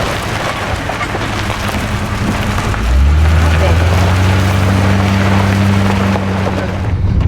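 A hound hunters' truck engine idles nearby in the woods, a low steady hum that deepens and strengthens partway through, with wind buffeting the microphone and a voice talking over it.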